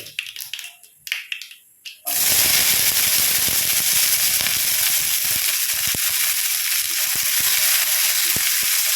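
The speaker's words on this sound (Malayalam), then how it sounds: "ഇതിലേക്ക് നമുക്ക് അരിഞ്ഞു വെച്ചിരിക്കുന്ന സവാളയും പച്ചമുളകും കറിവേപ്പിലേക്ക് ഇട്ടു" Sliced onion, green chilli and curry leaves drop into hot oil for a bitter gourd curd curry, and after a couple of seconds of quieter clatter a loud, sustained close sizzle bursts out with sharp pops.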